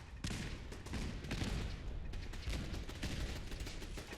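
Dense, continuous turret gunfire in the Fallout 4 video game rattles on without pause, a fairly close, steady barrage of overlapping shots and blasts.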